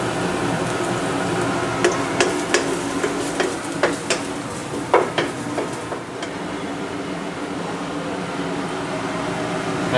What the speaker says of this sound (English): Put in a little bit of sesame oil. So this is garlic that I'm putting in right now.